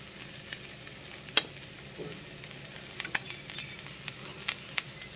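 Garlic frying in oil for a tomato chutney gives a steady, fairly quiet sizzle. Scattered pops and crackles rise above it, along with a few light clicks of a utensil.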